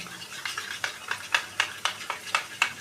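Sour yogurt and ingredients for an okra curry are whisked briskly in a bowl, giving a close, regular series of about ten sharp clinking strokes, with no voices.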